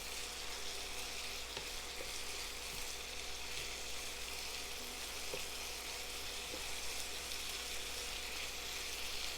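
Chicken and vegetables sizzle steadily in a stir-fry pan for a chicken basil dish, a continuous close, even frying hiss with faint crackles and no talking.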